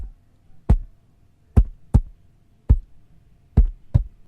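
Six dry, punchy thumps with a short tail, spaced irregularly about a second apart, each a deep low hit with a crisp top, no voices.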